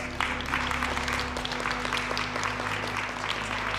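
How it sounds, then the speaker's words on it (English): An audience at a yoga and breathwork gathering claps together in a sustained, even round of applause, moderately loud and continuous, with a low steady hum beneath. "Everyone clap if you feel good."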